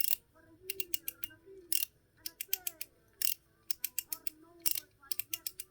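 A PEEK mechanical fidget slider fitted with nylon balls is worked back and forth, giving close, crisp clusters of rapid clicking detents in short repeated bursts with faint creaks in between.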